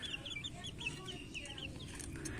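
Native chickens on a small farm cluck and chatter softly, with quick high-pitched calls in a close, steady patter over low background noise.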